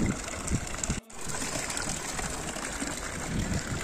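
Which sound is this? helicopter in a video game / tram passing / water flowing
water flowing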